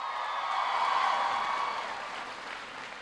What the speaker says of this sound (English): Give Lydia a big round of applause.